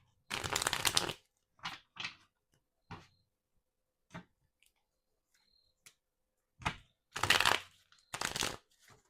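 Tarot cards of the Tarot of the Divine deck being shuffled in short, crisp bursts separated by quiet pauses, close and clear with no talking.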